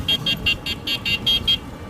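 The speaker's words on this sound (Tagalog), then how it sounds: "Ano yung busina?" A small horn, likely on an e-bike, beeps eight times in quick even bursts, loud and close, with light street noise beneath.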